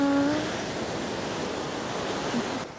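Ocean surf washes steadily along the coast at Itoshima, near the Meoto-iwa wedded rocks, a continuous broad roar of waves mixed with some wind noise and no talking.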